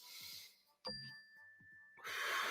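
A mindfulness bell struck once in a quiet room, its clear ding ringing out with a long, steady sustain and slow decay, with faint room noise and low murmuring around it.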